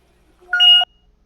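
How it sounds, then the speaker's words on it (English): A single short electronic beep, bright and fairly loud, lasting under half a second during a Fallout 2d20 tabletop role-playing session, with quiet room sound before and after. "Whoa, that was a beep."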